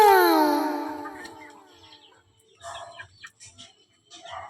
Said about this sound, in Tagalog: Dito muna tayo sa mga alaga kong mga manok.